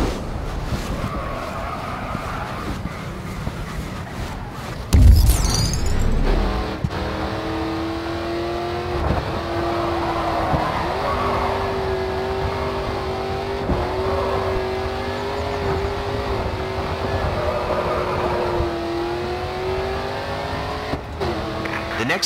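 Race car engine in the GRID 2 driving game revs and holds steady, rising and falling tones while drifting through corners, with a brief loud tire screech burst near the start and a narrator's voice speaking over it.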